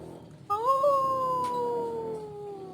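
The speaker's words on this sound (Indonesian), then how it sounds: "Wolf. Ya, wolf." A wolf howl rises then holds a long, steady, slowly falling tone for about two seconds, loud and alone, played as an animal sound example in an English lesson.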